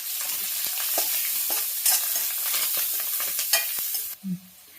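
Tempering of green chilies, dried red chilies, onion, curry leaves and turmeric sizzling in hot oil for a brinjal and potato curry, a steady close crackling fry with stirring scrapes and clinks of the spoon against the pan.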